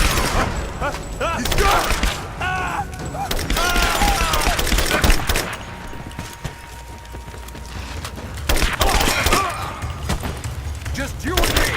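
Rapid bursts of automatic gunfire and scattered shots from the video game Rise of the Tomb Raider, loud and close, with a shouted voice over the firing and a brief lull before the barrage resumes.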